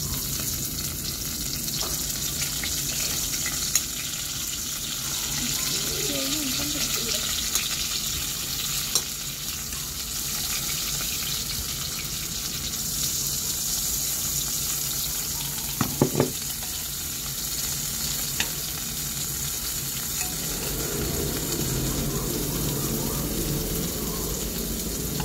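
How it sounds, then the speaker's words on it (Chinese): Vegetables, garlic and sweet potato fry in a pan next to steak, giving a steady close sizzle throughout with a few light clatters and stirs, one sharper knock around the middle; no talking. "煎蔬菜，煎它，很好吃耶，蒜很棒，再加地瓜"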